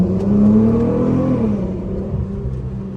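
A Chrysler 300 V6 engine hums steadily and loudly from inside the car during a night drive, its low drone rising slightly as it revs early on, then holding even for the rest of the clip.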